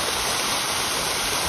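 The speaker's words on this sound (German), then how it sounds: "Hier plätschert das Wasser" Water from a lake splashing down over a mossy limestone wall at Band-e Amir in Afghanistan: a steady, close, bright rushing and splashing with no pauses and no talking.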